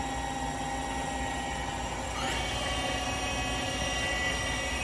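Live tool spinning at 650 RPM inside a new 2004 Daewoo Puma 240 MSB CNC turning center, a steady mechanical whir with a high whine that shifts and grows slightly louder partway through.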